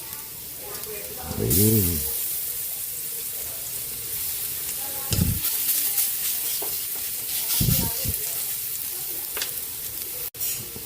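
Ginger and garlic sizzling in hot oil in a frying pan for chicken tinola, a steady bright hiss with occasional stirring scrapes and a brief spoken word over it.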